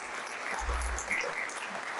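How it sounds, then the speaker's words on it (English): Students in a faculty of environmental design and management audience applauding together, a continuous, fairly faint and even patter of many hands with a low rumble underneath, heard from some distance. "rise and clap for yourself"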